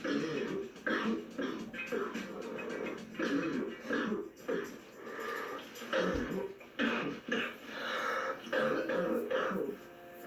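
A man's deep, throaty smoker's cough, heard as several rough hacking bursts and throat clearing spread over about ten seconds, fairly faint, mixed with a TV sitcom's background voices and talk.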